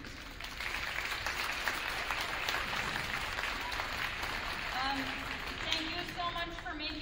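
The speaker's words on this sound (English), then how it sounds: "One more round of applause for the band." An audience applauds a school band at an afternoon grade 3-5 concert, steady dense clapping filling a hall for several seconds with faint voices mixed in.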